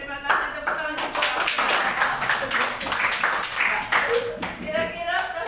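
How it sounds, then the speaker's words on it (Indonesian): Classroom applause, a group of students clapping in quick uneven bursts close by, with children's voices talking and calling out over the clapping throughout. "Tepuk tangan untuk"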